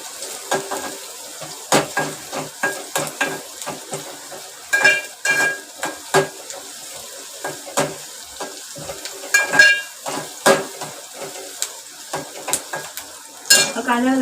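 Chopped onion browns in hot oil for a cluster-bean (gavar) curry, a steady sizzle broken by repeated sharp spoon clinks and scrapes against the pan, close and fairly loud, with no talking.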